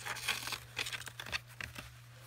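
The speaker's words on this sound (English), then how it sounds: "cut the foam." Foam being cut for a junk journal cover made from a purse, heard as close, rapid crinkly scraping and snipping in uneven bursts over a low steady hum.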